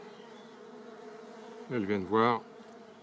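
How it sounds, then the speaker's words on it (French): Honey bees drawn to a queen's pheromones keep up a constant, close buzzing drone, and a person briefly speaks over it. "Elles sont toutes attirées par les phéromones de la reine."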